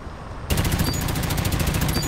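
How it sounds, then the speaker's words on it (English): Automatic gunfire in Dirty Bomb, a fast rapid-fire burst that starts abruptly after a quiet moment and continues loudly with a steady rattling rhythm. "Ah, the sound of gunfire."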